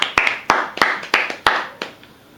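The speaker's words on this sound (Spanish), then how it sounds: "Vamos a darle un aplauso también" A few people clapping for a professor in a small room, about six sharp, evenly spaced claps, close and distinct, tapering off at the end.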